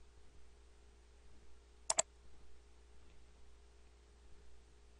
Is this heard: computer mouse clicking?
yes